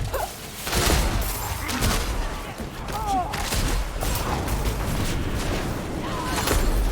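Skill explosions from a ranged elemental build in the Diablo 4 video game, a dense run of booming bursts and crackling fire, loud and continuous over a churning game-effects background with no pauses.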